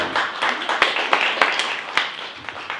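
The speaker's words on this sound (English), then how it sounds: "let's give a round of applause for Christina Chipman" Audience applause at a sales meeting, a steady patter of many hands clapping with a few sharper, louder claps standing out, fairly close and filling the short stretch alone.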